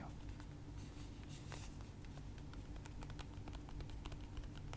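Rapid tapping on a phone's physical keypad while texting, quick irregular clicks at close range over a steady low hum, with no speech.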